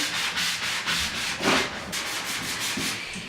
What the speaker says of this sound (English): And you just want to sand the front.